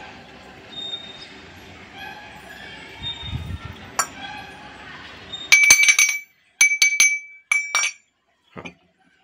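A spoon clinks against a bowl while ground nutmeg and crushed cardamom powder are stirred in, a soft rustle first, then several sharp bright metallic clinks in quick bursts, close and loud.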